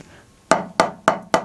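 Four sharp drum strokes from a drag rudiment exercise land in a steady, evenly spaced rhythm, each a crisp close hit with a quick decay and no voices.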